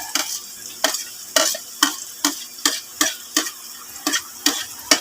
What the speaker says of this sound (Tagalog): Lagyan na natin yung sibuyas at bawang.